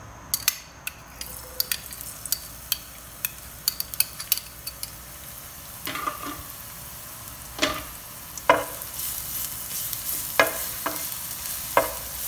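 Garlic sizzles in a pan for homemade pizza sauce, a soft frying hiss broken by scattered clicks and scraping stirs of a utensil, close and without speech.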